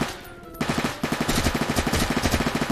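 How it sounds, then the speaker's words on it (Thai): P90 submachine gun fire in the Roblox game Oil Warfare Tycoon rings out as a rapid, evenly spaced burst of loud shots that starts after a brief quiet moment and keeps going to the end. "เอาดิพี90นี่พี90แรงใช้ได้พี90 ปืนใหม่"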